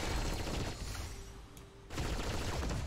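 Rapid video-game gunfire aimed at the enemy Arcana in Eternal Evolution, a dense crackling burst that drops away briefly mid-clip before the shooting resumes at full loudness.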